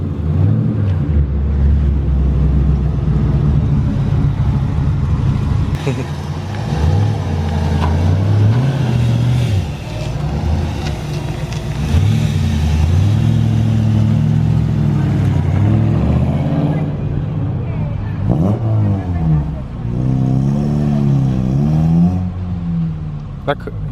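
A 2009 Honda Civic Si engine with a modified exhaust idles and revs repeatedly with a deep, throaty note and a slight rattle, while people talk over it.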